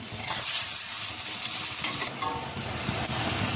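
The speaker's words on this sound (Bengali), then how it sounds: "আমি এবার এগুলো ভেজে নেব।" Raw banana kofta fry in hot oil in a wok, a steady loud bubbling sizzle that fills the whole span with small crackles on top.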